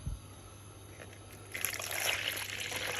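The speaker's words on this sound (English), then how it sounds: "so I can add some kettle water to this" Hot water from a kettle pours into a cooking pot holding garlic on the stove for brown stew chicken, a soft steady trickle that starts partway through and keeps running.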